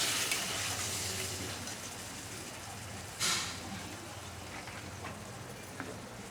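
Water poured into a pan of spice-fried potatoes and yam, a broad hissing gush and sizzle that runs steadily, with a brief louder splash partway through.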